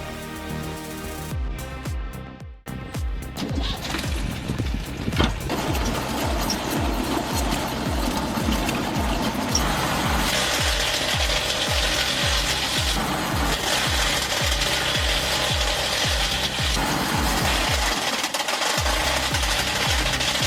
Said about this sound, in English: Watching it rip through cars with that kind of raw power is just insane.